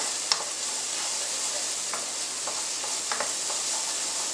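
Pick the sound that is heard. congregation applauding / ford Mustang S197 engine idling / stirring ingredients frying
stirring ingredients frying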